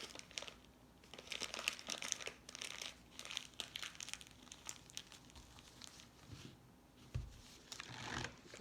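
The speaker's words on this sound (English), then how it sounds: "So then I fold my bag down." A plastic bag packed with cornstarch gets folded down and pressed, giving close, steady crinkling and crumpling with small crunchy bursts and a thump near the end, no voices.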